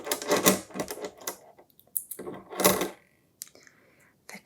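Thai baht coins handled close to the microphone, with bursts of bright metallic clinks and jingles in irregular clusters, then sparse quiet taps and near-silence toward the end.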